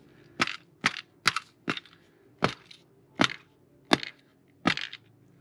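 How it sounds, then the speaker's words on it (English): A deionizer canister tapped to settle its resin: eight sharp, close knocks spaced roughly half a second to a second apart, each a crisp hollow crack with quiet gaps between. "tapping it so that you push the resin down to the bottom."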